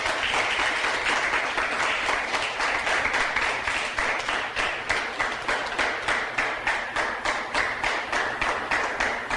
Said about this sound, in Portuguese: Jesus merece um aplauso nessa noite.